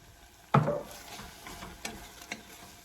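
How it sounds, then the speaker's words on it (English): Herbs being stirred into a sizzling tomato mixture in a pan, one sharp scrape of the utensil followed by softer stirring strokes over a faint sizzle, with no talk. "And stir those really well."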